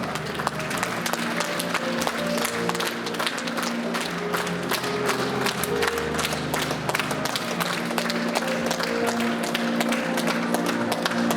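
Sustained applause fills a hall at a school graduation ceremony for eleventh-grade classes, many hands clapping densely and evenly for the whole stretch over a background of steady music.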